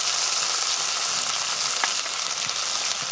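Ground spice paste and chopped tomato with a little salt fry in a pan, giving a loud, continuous broadband sizzle for a few seconds with faint stirring scrapes and no voices.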